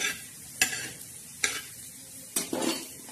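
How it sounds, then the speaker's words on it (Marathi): Whole spices for kala masala roasting in a pan, with a soft steady sizzle broken by three sharp scrapes of a spatula stirring them, close and alone without voices. "खडा मसाला बी असा छान असा भाजून घ्यायचा"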